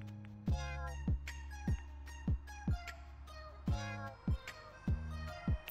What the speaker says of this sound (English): after just a block, you hear some happy meowing